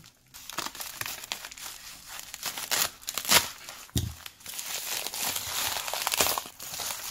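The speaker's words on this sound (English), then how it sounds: "Alright, I'll go ahead and cut this open." A glued padded mailing envelope holding a bullion coin package is cut open, giving close crinkling and tearing of paper and padding in uneven bursts.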